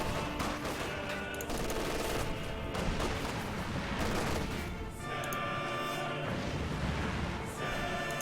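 Rapid bursts of MP40 submachine gun fire in the Company of Heroes 2 war game, dense overlapping rattling volleys with booms beneath, sustained throughout.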